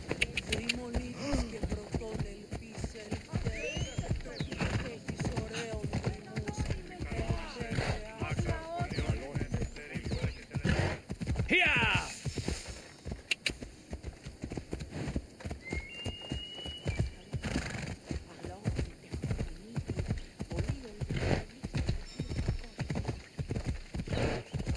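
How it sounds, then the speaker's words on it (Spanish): Horse hooves clip-clop in a steady, rhythmic gait through the Assassin's Creed Odyssey video game, continuing for the whole stretch with a possible brief neigh midway, over ambient game sound and some voice. "Al caballo."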